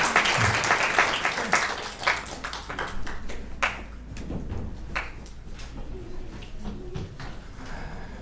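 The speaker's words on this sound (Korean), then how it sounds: "박수로 우리 자녀들 위해서 크게 격려해주시고" A church congregation applauds to encourage its children after a prayer: dense clapping from many hands, loud at first and then thinning out, with scattered taps and room noise.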